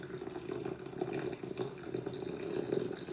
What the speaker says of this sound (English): But if you pour it super slow, it saturates all of it.